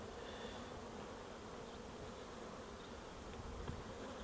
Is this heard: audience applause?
no